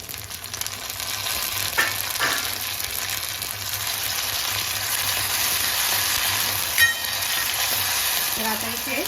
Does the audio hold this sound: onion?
yes